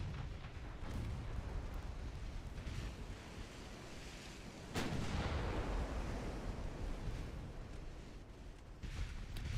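Naval main guns firing during a battle in a naval warfare game, distant heavy booms rolling over a steady wash of sea and wind noise, with one sharp, stronger blast near the middle.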